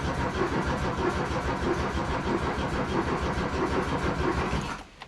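A car engine cranks in cold winter weather after the glow plugs are used, a rapid, even starter rhythm close by for about five seconds. It never catches and then cuts off into quiet.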